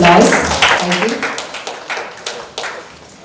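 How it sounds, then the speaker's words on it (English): Scattered applause from a conference audience at a construction-industry event, marking a strategic partnership announcement: a handful of separate claps that thin out and fade over a few seconds, with a voice speaking alongside. "Round of applause."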